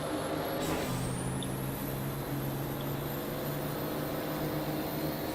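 Volkswagen Formula Truck racing trucks at speed on the Cascavel circuit, a steady, loud, droning engine roar with a sustained low hum and a rising whine at the start, with no talking.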